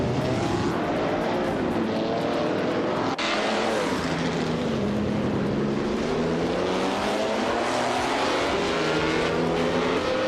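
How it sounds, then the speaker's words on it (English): A 1960 Cooper T53 race car engine roars in a racing video game, a loud continuous whine that rises and falls through gear changes and revs, dense and close, with no voices. "Playboy Carti is driving a 1960 Cooper T53."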